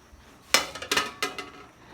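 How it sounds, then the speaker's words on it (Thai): A few metallic clanks and clinks of a large cooking pot's lid being set down and shifted, sharp knocks spaced irregularly over a quiet background. "ปิดฝาหม้อไปก่อน"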